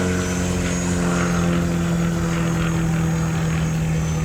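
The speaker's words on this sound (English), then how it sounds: "I love the sound of that Mustang motor. It sounds awesome." An RC Mustang model airplane motor drones steadily and fairly loud throughout, a constant propeller buzz with a stable pitch, alone without voices.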